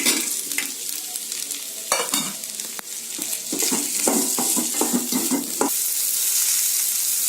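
Green peas and potatoes sauté in a pan for a peas-potato milk curry, with steady close sizzling broken by a run of sharp scraping stirs and clinks in the middle, no voices.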